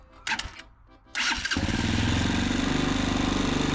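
A homemade vehicle's engine sputters briefly, catches after a second attempt, then settles into a loud, steady, rapid idle close by.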